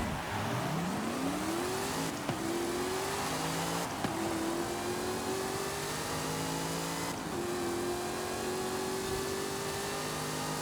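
Race car in Forza Horizon 5 launching with eased-in power, engine note climbing steadily then dropping at each of several gear shifts before climbing again, a loud continuous acceleration with no talk.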